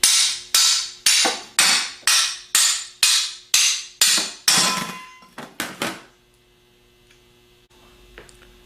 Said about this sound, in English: tap down on the outer part of the front plate with a ball peen hammer